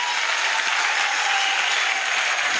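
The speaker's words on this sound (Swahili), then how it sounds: "Makofi kwa Governor." A crowd claps steadily for a couple of seconds, dense and even applause with no voices heard over it.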